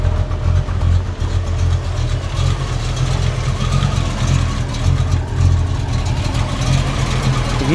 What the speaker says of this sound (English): Hear that alternator working?